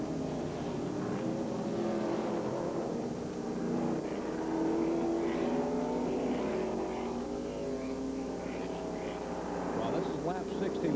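NASCAR race cars pulling away down pit road during a caution at a 2000 Busch Series race, their engines roaring and rising in pitch as they accelerate, heard at a distance beneath continuous commentary.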